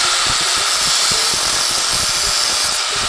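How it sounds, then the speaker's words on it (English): A grinder evens up the end of a welding rod in a fabrication shop, giving a loud, steady, harsh grinding hiss that runs without a break. "So I just take a grinder and even up the end of it."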